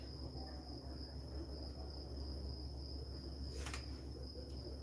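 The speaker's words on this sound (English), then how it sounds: "There are so many insects." Crickets and other insects chirp steadily outdoors at night beside a garden of spring onions and cabbage, a constant high trilling with a low hum beneath and one brief sharper burst near the end.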